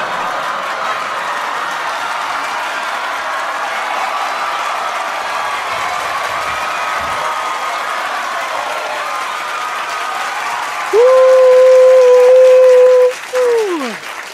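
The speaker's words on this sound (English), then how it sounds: "I would also like to give a round of applause to Markiplier for joining us on this stream." Steady crowd applause during a live stream, a continuous dense wash of clapping that holds for the whole stretch, with a short sustained electronic tone sounding near the end.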